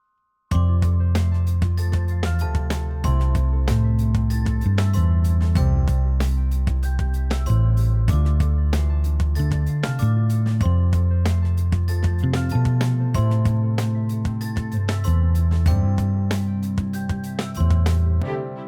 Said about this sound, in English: I really like those bells.